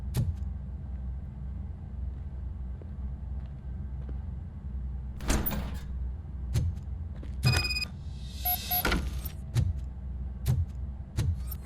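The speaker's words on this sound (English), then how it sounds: "Now let me get that door open for you." A door opens in RoboCop: Rogue City amid a low rumbling ambience, with a cluster of mechanical clanks and a whirring slide near the middle, plus scattered heavy footsteps.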